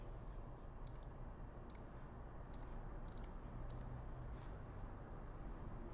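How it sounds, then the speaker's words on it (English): A computer mouse clicking the upload image button in a WordPress theme dashboard, five or six short crisp clicks spread over a few seconds against a quiet room hiss. "so I'm going to click the upload image button"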